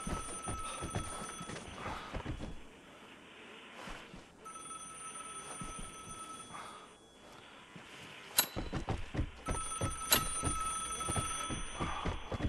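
Telephone ringing inside the video game Vigor, a repeated bell-like electronic ring sounding in bursts over game ambience, fairly close and steady, with a brief lull midway before the ringing resumes.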